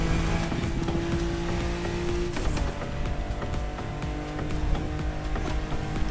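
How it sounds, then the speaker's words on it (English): A Ferrari Testarossa races in the video game The Crew Motorfest, its engine droning loud and steady with a rising whine and a brief gear change midway, with no voices. "Look at that Testarossa just go."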